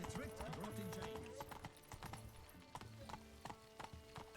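Roach, a horse in The Witcher 3, trotting with crisp rhythmic clip-clop hoofbeats that are close and fairly quiet, running under overlapping speech and a musical tone throughout.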